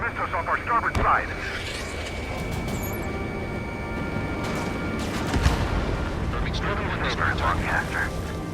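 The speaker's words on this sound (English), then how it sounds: "Their artillery fire just missed us off our starboard side." Artillery fire in the Ace Combat 7 video game booms over a steady aircraft engine drone, with a few heavy thuds and rumbling blasts amid radio chatter and game voices.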